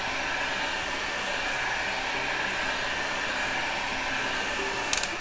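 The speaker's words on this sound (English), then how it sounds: "So a little blast with my heat gun allows it to become a little bit more malleable, a little bit more bendy." Heat gun warming a Woodubend moulding, a constant close whooshing blower roar with a motor whine, steady and unbroken, ending with a couple of small clicks.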